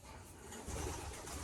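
Belgian pigeons cooing in a loft, a low soft murmuring coo that swells slightly partway through, steady and close with no voices.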